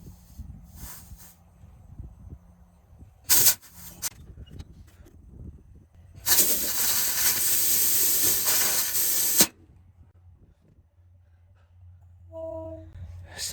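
Compressed air hisses from a tank into a flat tire in a strong, steady rush lasting a few seconds, preceded by a brief spurt and quiet background rumble.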